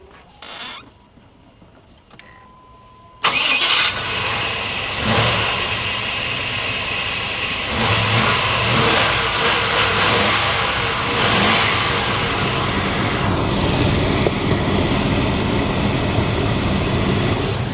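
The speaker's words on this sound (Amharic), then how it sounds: "እንደምትሰሙት ድምጹ ተነስቷል መኪናው ተነስቷል" A Chevy Tahoe engine, just repaired with a new distributor cap and rotor, is recorded with the mic beside it. Brief quiet handling sounds come first, then it cranks and catches and keeps running loud and steady, close up, with no talk.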